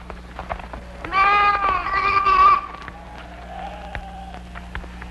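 One sheep gives a loud, wavering bleat lasting over a second, then a fainter follow-up call, against scattered low thumps and background noise.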